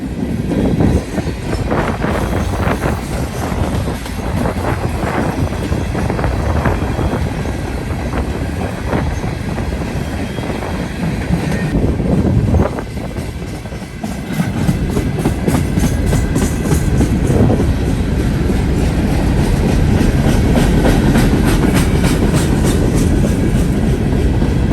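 Norfolk Southern freight train NS 171 rolling westbound past a railroad control point, a loud sustained rumble of wheels with clickety-clack rail joints and metallic screeches, close and continuous throughout with no talk.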